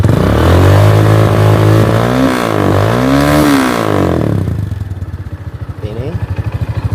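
A tuned 125cc motorcycle engine revs hard and loud close by, its pitch climbing and falling in repeated throttle blips before it drops back to a lumpy, pulsing idle.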